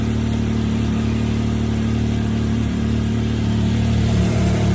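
A Can-Am X3 engine fitted with a newly installed blow-off valve runs at a steady, loud, close idle with an even droning hum and no clear revs.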